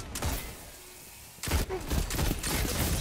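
A Monarchy scout rifle fires in a video game: dense bursts of rapid gunfire, a brief lull, then repeated loud volleys mixed with in-game effects.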